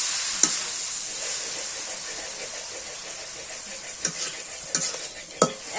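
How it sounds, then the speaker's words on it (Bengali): Beef tripe frying in oil in a pan on a clay stove, a soft continuous sizzle and hiss with a few sharp stirring clatters near the end. "একটু তেল ভাজছে, একটু তেল ভাজছে।"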